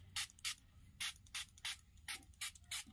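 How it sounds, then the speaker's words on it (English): Quick, regular spritzes from a water spray bottle onto hair, about ten short hissing bursts in steady rhythm, close and crisp. "this is my little spray to wet my hair"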